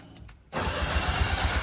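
A fuel-injected 1972 Honda N600 engine cranks briefly, then fires and settles into a loud, steady running idle with a throbbing low pulse, close by.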